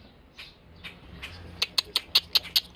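Baby birds up in a tree give a run of sharp, high squeaky calls, about eight quick chirps in an uneven rhythm, preceded by fainter softer cheeps, fairly close in quiet surroundings.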